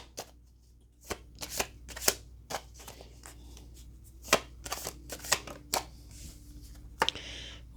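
Tarot cards are shuffled by hand in a quiet room, with irregular crisp riffles and soft slaps close by and brief pauses between bursts.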